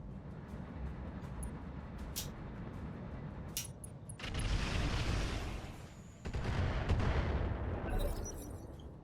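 Missiles slam into a battlemech in Roguetech, two heavy rumbling blasts of explosions swelling over a constant dense din of combat, with sharp metallic clicks and pings scattered throughout.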